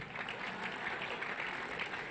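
A church congregation at a worship service in Lagos applauds with dense, continuous clapping that fills the room at a steady, moderate level.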